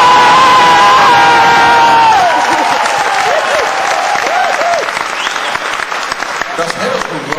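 A live audience at a sales awards event bursts into loud applause and cheering, with whoops and shouts over dense clapping, while voices talk through the crowd noise as it gradually thins.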